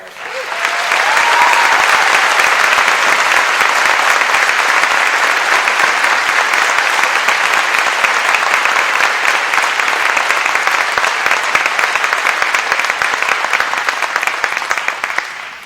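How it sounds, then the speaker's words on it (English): Loud, sustained applause fills a graduation ceremony hall for the class of 2021, a dense steady roar of many hands clapping together that holds at full strength throughout before easing slightly at the very end. "Let's please take a moment to give a meaningful and very loud round of applause for Mr. Junick."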